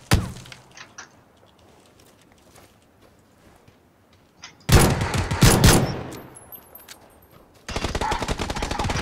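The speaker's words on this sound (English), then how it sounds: "I'm getting pistoled right now" Pistol fire in PLAYERUNKNOWN'S BATTLEGROUNDS: a sharp shot opens the clip, then after a quiet stretch come loud, close bursts of repeated gunshots with cracking impacts.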